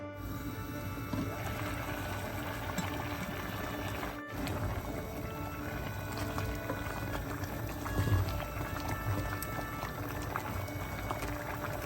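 Jaffna-style tamarind rice porridge simmers in a covered pot, giving a steady low bubbling and gurgling that runs throughout at close range, with no voices.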